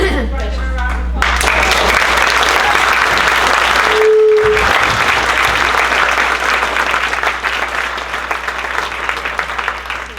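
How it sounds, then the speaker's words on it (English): Loud, sustained audience applause after a talk at a water summit, dense clapping filling the room for several seconds with a brief dip partway through. "I'm asking for a round of applause."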